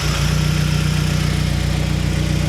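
An Audi TT engine idling close by, a loud steady low rumble with an even pulsing beat throughout and no talking.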